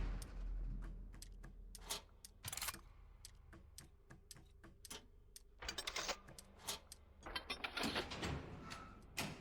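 A heavy door being moved in the video game Layers of Fear, heard as a run of clicking, ratcheting mechanical clatters and creaks in irregular bursts, fairly close and without talking.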